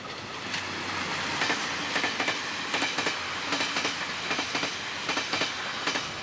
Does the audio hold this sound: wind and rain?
no